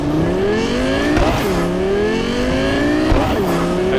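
A car engine in Cyberpunk 2077 revs hard and climbs through several gear shifts, its pitch dropping sharply at each change, loud and close with no talk.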